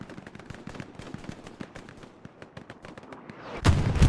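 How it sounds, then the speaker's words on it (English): Aircraft strafing run in the World War II shooter Hell Let Loose: rapid bursts of distant gunfire crackle in a dense rhythmic string, then a louder, closer burst of heavy rounds and impacts erupts near the end. "It's not a bad strafing run."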